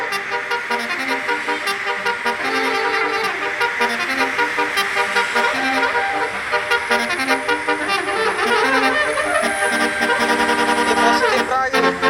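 A basuri telolet bus horn setup with many horn funnels plays a melodic string of tooting tones, changing pitch in quick runs and sliding notes, loud and continuous over a low vehicle rumble.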